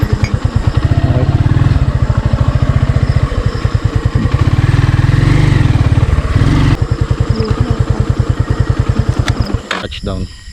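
A motorcycle on a moto-camping trip to a campsite in Tanay, Rizal, its engine running loud and close with a fast, even chugging rhythm that cuts off near the end.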